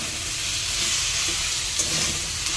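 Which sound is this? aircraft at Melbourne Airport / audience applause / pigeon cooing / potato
potato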